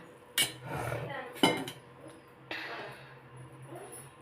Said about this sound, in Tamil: இன்னும் நல்லா கிளறி விட்டுக்கலாம்